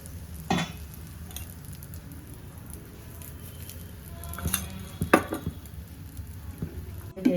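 Kadalebele holige (obbattu) cooking in oil on a hot pan, a soft continuous sizzle with occasional spatula taps and scrapes, close and moderate, a few sharper clinks toward the end.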